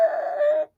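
A voice imitates car tires screeching as a car takes a corner too fast, giving one loud, sustained, squealing tone that holds steady and then cuts off.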